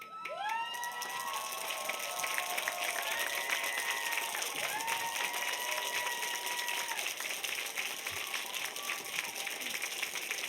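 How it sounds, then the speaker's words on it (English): Graduates at a De Anza College graduation ceremony turn and rise to applaud their families, a dense, sustained wave of clapping and cheering filling the hall, with some whistles and shouts riding over the steady crowd noise. "could you turn and rise and applaud your families?"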